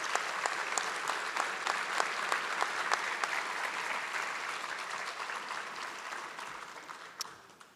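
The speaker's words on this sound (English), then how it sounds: "How about a round of applause for those young ladies who sang the national anthem?" An auditorium audience at a fire and rescue recruit class graduation ceremony applauds steadily, dense clapping from many hands sustained throughout at moderate loudness, with no talk over it.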